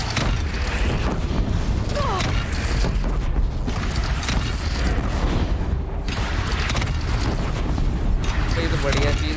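Cannon fire in Horizon Zero Dawn during a battle with a bandit clan, heavy booms and clatter in a loud, constant din, with voices talking throughout.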